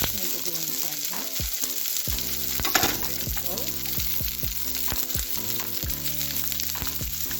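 Ginger and onions fry in a pan for a vegetable kurma, with fennel seed added. The sizzle is loud and constant, and close, sharp clatters of stirring keep breaking through it.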